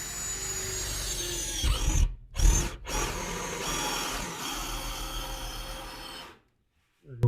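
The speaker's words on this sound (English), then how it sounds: "make sure I'm not drilling anything important out there" Improvised hole saw drilling through sheet metal on a Squarebody Chevy: a continuous close grinding whir that halts briefly twice, resumes, then cuts off to near silence before a final burst.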